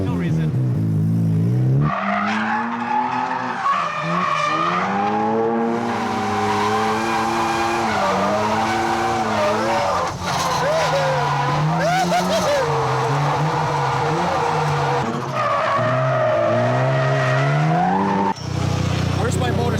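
A car engine revs hard with long, wavering tire squeals as it drifts, loud and close, the screeching rising and falling for most of the stretch.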